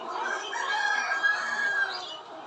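Layer hens on a poultry farm cluck and call together, with one drawn-out, crowing-like cry rising in the middle of the chorus, close and fairly loud.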